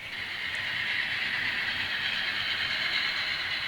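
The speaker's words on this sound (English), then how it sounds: "The next train going by is our grain train" Steady hiss and rumble of a model freight train carrying grain rolling past, constant and fairly close with no voices.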